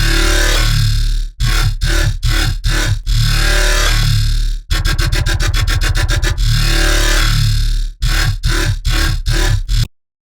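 A loud, distorted dubstep bass loop from a Serum synth wobbles at a slower quarter-note rate, with harsh growling bursts broken by sudden gaps and a rapid stuttering middle section before cutting to silence.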